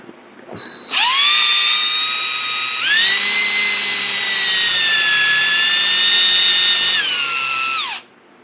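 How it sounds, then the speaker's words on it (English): A power drill bores a small pilot hole in a sidewalk ice scraper, whining loudly and steadily for about seven seconds, its pitch stepping up partway through before it winds down and stops. "So I'm just doing a small pilot hole."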